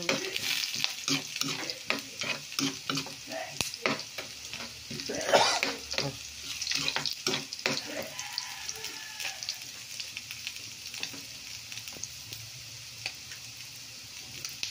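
Pork and chicken feet for adobo are frying in their own rendered fat, a close sizzle broken by frequent scraping stirs at first that thins to a quieter hiss later, with no speech.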